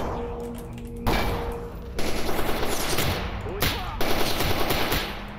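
Shotgun blasts from the video game Stalker Anomaly, a few loud separate booms spaced about a second apart, each with a long rumbling tail, along with faint game background noise.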